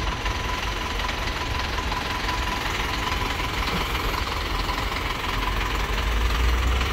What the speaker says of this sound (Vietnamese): Đây là cái tiếng máy cho người ta mở lên này.